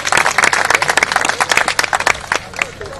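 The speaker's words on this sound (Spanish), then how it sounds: "Un gran aplauso para este gran trabajador" A live audience applauding a worker at a Peruvian political event, dense, loud clapping filling the whole stretch, with a voice speaking over it.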